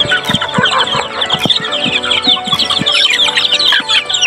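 Hens and chicks cluck and peep continuously while feeding, close and busy, with sharp pecking taps on the ground and feeder mixed in.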